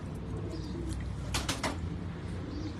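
Pigeons held in the hand give short coos and a brief burst of fluttering, close and moderately loud over a constant low outdoor hum.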